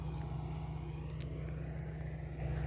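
An MTZ-80 tractor pulling DAN 2.5 disc harrows across stubble gives a loud, steady low diesel drone with a pulsing rumble, continuous and close, with no talking.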